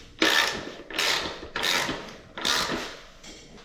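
A hand ratchet clicks in four long cranking strokes while parts are tightened on the wheels of a 72-volt Sur Ron electric motorcycle. Each stroke is a loud, close rasp of rapid pawl clicks, separated by short pauses.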